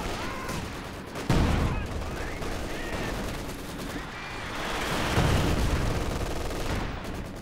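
Artillery barrage and machine gun fire in the Company of Heroes 2 strategy game, rapid rattling bursts and sharp heavy impacts, with a loud blast early and swelling gunfire later, under constant battle noise.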